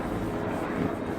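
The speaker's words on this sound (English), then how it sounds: "I have helicopters passing over" Helicopters passing overhead outdoors make a steady low rotor drone that fills the whole stretch at moderate level, with no clear rise or fall.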